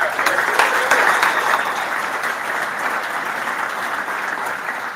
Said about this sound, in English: Clap it up for Chet.